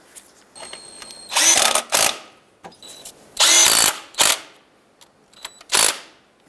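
Power tool snugging water pump bolts on a 2003-09 Toyota 4Runner: several short, loud whirring bursts, each about half a second, separated by pauses and faint clicks.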